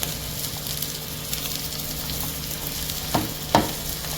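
Chicken sandwich vegetables, with carrots added, sauté in a pan over a medium flame with a steady close sizzle, soft stirring, and two sharp clanks near the end.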